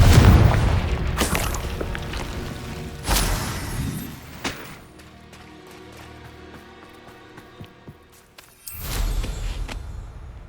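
Several Confringo blasts from Hogwarts Legacy spellcasting: loud, sharp booms land at intervals, each with a crackling burst and fading rumble, separated by quieter stretches of low ambient game sound.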